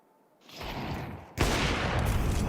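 Loud, dense gunfire bursts in Counter-Strike during a BLAST Bounty Malta esports match, starting at mid-level and surging louder partway through as sustained shooting fills the mix.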